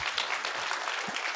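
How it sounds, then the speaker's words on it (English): Audience applause at a financial trends forum in Taiwan, a short dense burst of many hands clapping together at steady volume. "You can clap your hands."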